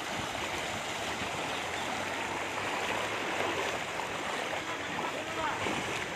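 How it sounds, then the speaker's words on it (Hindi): Deep, fast-flowing floodwater after heavy rain in Rajasthan rushes steadily, a dense broadband roar that stays constant throughout. "तो ये देखिए बहुत बहुत गहरा पानी है, और बहुत तेज़ गति से पानी जा रहा है।"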